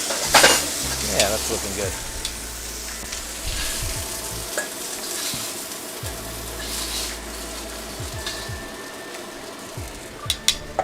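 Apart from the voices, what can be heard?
steak searing in a wok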